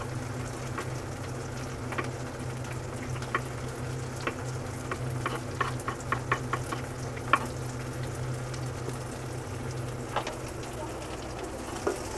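Onions sauté in a pan for a green peas sundal, giving a low steady sizzle with scattered light clicks and taps of a spatula stirring, close and fairly quiet.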